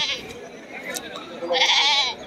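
Goats bleat at a muddy rainy-day livestock market in Bangladesh, among mother goats and kids; a nasal bleat rises clearly near the end over faint crowd murmur and background chatter.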